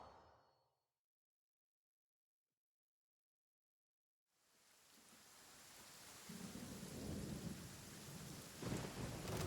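Thunderstorm in the video game Genshin Impact: after a near-silent start, steady heavy rain swells in with low rolling thunder rumbling underneath, growing louder toward the end.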